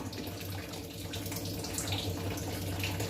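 Water pouring steadily from a tap into a cooking pot for green peas biryani, a continuous close splashing rush with no talk.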